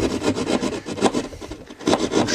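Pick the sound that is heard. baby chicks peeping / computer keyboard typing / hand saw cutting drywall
hand saw cutting drywall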